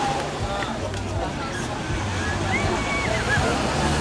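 Sea water sloshes and laps at the shore on a beach at Coroa do Avião island in Pernambuco, a steady close wash with people talking over it.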